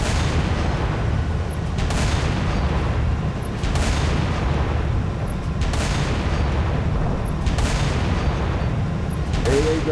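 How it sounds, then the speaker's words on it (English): Anti-aircraft guns fire in Halo Reach over a constant roaring din, heavy booming shots recurring roughly every two seconds in a steady rhythm, distant but powerful, with no speech heard. "AA guns dead ahead, Lieutenant."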